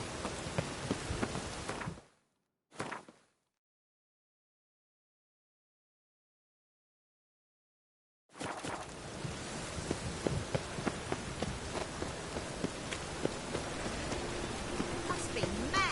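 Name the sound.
rain in a PS4 video game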